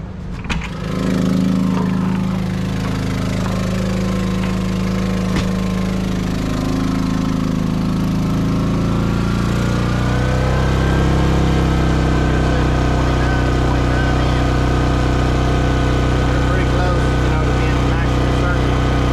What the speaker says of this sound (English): So we're pulling 2200 watts out of the generator